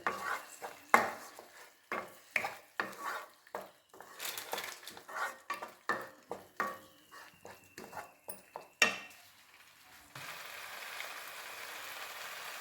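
Rajma masala being sautéed in a pan, with a spoon scraping and stirring in repeated close strokes over a soft sizzle, then a steadier frying hiss near the end.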